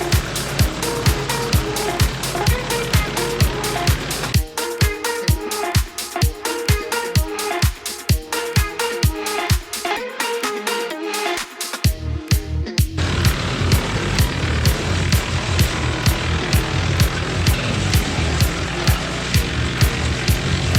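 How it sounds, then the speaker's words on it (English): A Wallenstein tow-behind wood chipper running behind a Kubota L2501 tractor, a loud steady engine drone with fast rhythmic thumping that dips briefly midway before the roar resumes. "So this Wallenstein tow behind chipper is pretty unique"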